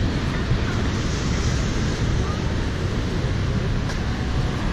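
Ocean surf at La Jolla's seal cove: a steady, dense wash of breaking waves mixed with wind, loud and continuous throughout, with no voices.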